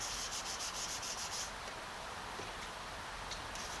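Wet sanding on a car body: an even, continuous rubbing hiss with faint rhythmic strokes early on, close and steady throughout.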